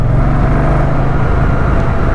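A 2024 Moto Guzzi Stelvio's engine runs steady and loud through city traffic, a continuous low motorcycle drone with a mild rise in revs and no voices.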